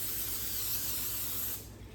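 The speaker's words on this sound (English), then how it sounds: "I might just lightly spray the edges. And then also the tops, the lids, so the cheese doesn't stick to them." Cooking spray hisses steadily from an aerosol can as it coats the edges and lids of a lasagna pan, one continuous close, loud burst that tapers off near the end.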